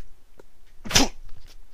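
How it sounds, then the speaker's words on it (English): A single stifled sneeze, short and sharp, bursting out suddenly near the middle amid faint background sounds. "I had to sneeze, and I couldn't really stop myself"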